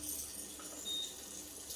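An electric bidet seat sprays water for the front wash setting, a steady hissing, even stream heard close up for the whole moment without talking.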